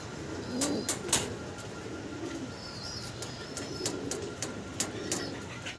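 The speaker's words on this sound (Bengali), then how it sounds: "আরো এক জোড়া ইউনিক কালারের ড্যানিশ কবুতর আপনাদেরকে দেখাচ্ছি" Danish pigeons give soft, low cooing in short phrases, mixed with scattered sharp clicks and taps, fairly faint and without talk.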